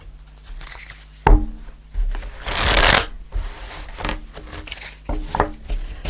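Tarot cards are shuffled by hand in a few quick riffling bursts, with a louder central flurry, light taps and rubbing between them, close and clear with no talking.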